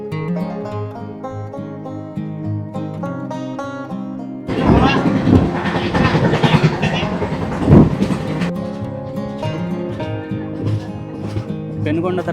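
Kondaveedu Express passenger train rolling on the tracks, a burst of loud rushing rumble and clatter from about four to ten seconds over a background of music and someone talking.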